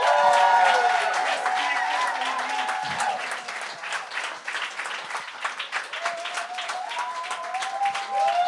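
A studio audience at a televised comedy talent show bursts into loud, dense applause that slowly thins, with whoops, cheers and short musical stings cutting through near the end.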